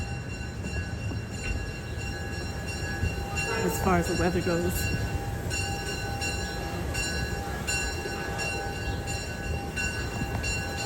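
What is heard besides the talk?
passing train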